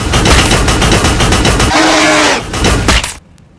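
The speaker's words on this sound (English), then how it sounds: "Firing primary cannon." Tank cannon fire in Warhammer 40K Battlesector, Astra Militarum against Tyranids: a dense volley of loud, rapid booming shots rolls on for about three seconds, then cuts off abruptly to near silence.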